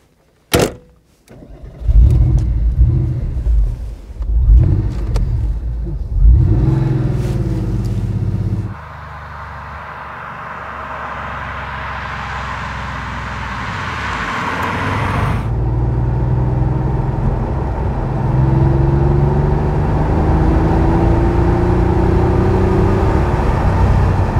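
A 1992 Porsche 964 Cabriolet's engine cranks and catches, idles roughly, then revs up and climbs steadily in pitch as the car accelerates, loud and close.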